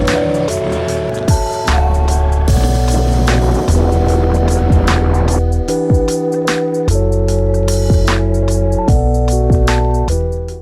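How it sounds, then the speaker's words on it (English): A Honda Super Cub motorcycle being ridden to a park, its small engine humming steadily up close with repeated gear-change shifts in pitch and a constant loud drone. "I uncovered my Honda Super Cub and rode it down to the nearby park."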